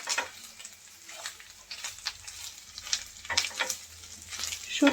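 Dried loitta fish frying with onion and garlic in hot oil, a continuous crackling sizzle with scattered sharper pops and occasional stirring scrapes close by, no talking.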